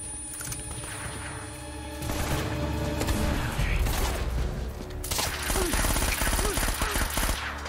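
Rapid automatic gunfire in Uncharted: Drake's Fortune, loud, dense bursts of shots crackling almost continuously with brief shifts in intensity, close and sustained throughout.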